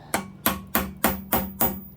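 Six sharp metal hammer blows, evenly spaced about a third of a second apart, striking the back of a stud to free a jammed climbing cam extractor, close and loud with no talk.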